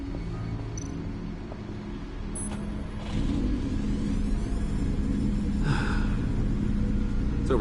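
A car engine of over 600 horsepower in Telltale's Batman: a low steady rumble that swells as it revs up midway and holds loud, with faint squeaks and clicks on top.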